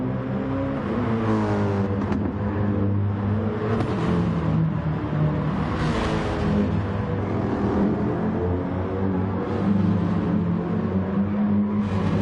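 Racing car engines from a sim racing game, a BMW and an AMG GT3 on the Maggiore circuit, drone at a steady high pitch with rising and falling revs, loud and continuous without pause.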